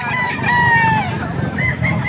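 A full stag rooster at a fowl sale in Pampanga crows loudly and close, one sustained call with clucking chickens and faint voices around it.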